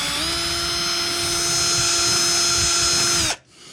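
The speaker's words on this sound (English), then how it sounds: "So now we're just going to run our drill bit through the center." A drill bit bores a tuner hole through an Epiphone ET 275 guitar headstock, giving a steady high whine at constant speed for about three seconds before it stops abruptly.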